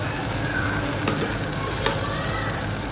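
Sour yogurt, about two tablespoons, goes into a sizzling pan of potol dorma (stuffed pointed gourd) masala, with a steady frying hiss and a couple of brief stirring scrapes; no talking.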